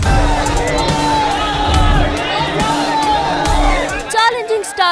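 Darshan fans cheer and whoop in a dense, loud crowd celebrating the Kaatera film release, with shouted voices and babble layered throughout and a few sharper yells near the end.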